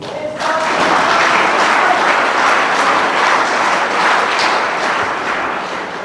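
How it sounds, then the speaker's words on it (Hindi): An audience at an NCC seminar on health, hygiene, sanitation and cyber crime bursts into loud, sustained applause that holds steady for several seconds and then eases slightly toward the end. "कृपया पुनः एक बार उनका जोरदार तालियों से अभिवादन करें"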